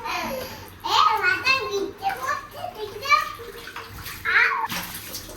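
A small child splashing water during a bath at home, with water sloshing against the tub in bursts amid a child's excited chatter and babbling, close and fairly loud.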